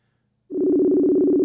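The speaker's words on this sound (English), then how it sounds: "can you guys hear it ringing? I hear it ringing." Ringing on a phone call begins abruptly after a brief silence as a loud, steady electronic tone that sounds continuously to the end.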